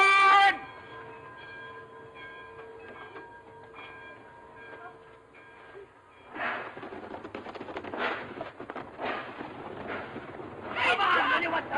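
An old-era steam train pulls away from a station, with a sustained whistle-like tone at the start, then chugging and rolling rail noise that swells in bursts, loud and close.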